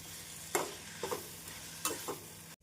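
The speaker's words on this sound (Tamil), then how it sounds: "மல்லி இலை சேர்த்து ஒரு முறை நன்றாக மிக்ஸ் செய்து விடலாம்" A spoon stirs onion tomato chutney with coriander leaves in a pan, giving a few distinct scraping strokes over a soft, steady sizzle.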